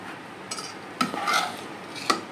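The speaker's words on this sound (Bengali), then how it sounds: "এবার এটাকে একটু মিশিয়ে নেব।" A spoon stirs dal (lentils) in a pot, making soft scraping and rubbing strokes with a few light clinks against the metal, fairly faint and close.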